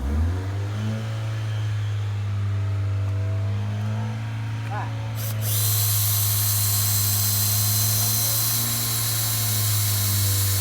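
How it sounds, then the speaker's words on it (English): A power drill bores holes, starting about halfway through with a loud, harsh, sustained whine over a steady low motor hum that runs throughout. "Drill time, here we go."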